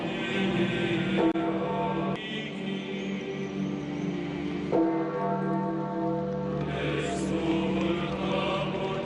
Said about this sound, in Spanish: escuchemos las campanadas del aplauso